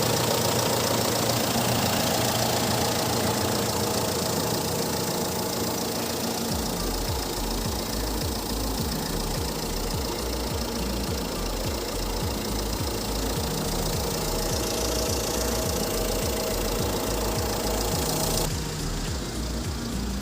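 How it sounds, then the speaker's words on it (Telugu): A Jeep Compass SUV engine idles steadily for a long stretch, a constant low rumble with a rhythmic knocking pulse, close and unchanging. "హై స్పీడ్ ఇంజిన్ అండి ఇది"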